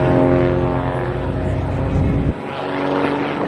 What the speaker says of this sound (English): What you're seeing today is the only open cockpit Chippy flying in the world